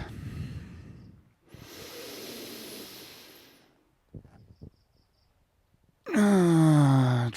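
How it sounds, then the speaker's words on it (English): Deep breaths are taken close to the microphone: a long drawn inhale, a pause, faint shuffling, then a loud, full exhale near the end, with no talking. "Taking deep breath."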